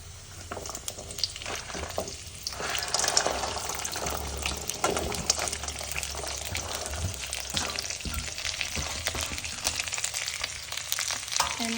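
Chopped vegetables tossed into hot oil for a Bhogi Makar Sankranti dish, a steady crackling sizzle with bursts of stirring and scraping throughout, close and fairly loud.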